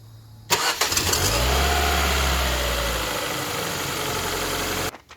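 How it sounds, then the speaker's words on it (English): A Ford Sigma car engine cranks briefly and fires up, surging to a strong low rumble that settles into a steady idle, close and loud, with no talking. "in terms of startup, the Ford Sigma engine sounds more like"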